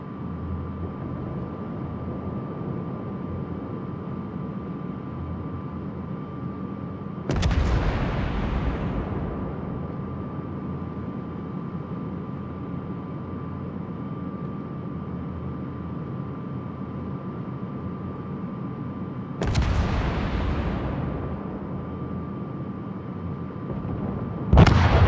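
Warship artillery in World of Warships: two big booming salvos with long rumbling decays, well spaced over a steady low engine and sea drone, plus a third blast just starting at the end.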